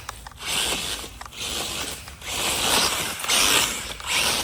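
A Hosim RC car, run after two weeks at the bottom of a lake, gives off a continuous loud mechanical whirring and ratcheting with surging drivetrain noise, close up and without talk.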